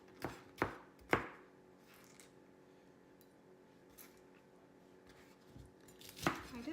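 A knife chops bell pepper finely on a cutting board in a home kitchen: three quick, close, crisp chops, a quiet stretch with faint taps, then another sharp chop near the end.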